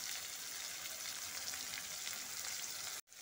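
Turmeric, coriander and chili powders with salt frying in a pan with other ingredients for masala sabu, a steady dense sizzle running close and loud, then cutting off abruptly near the end.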